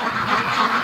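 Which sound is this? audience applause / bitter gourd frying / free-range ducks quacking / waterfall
free-range ducks quacking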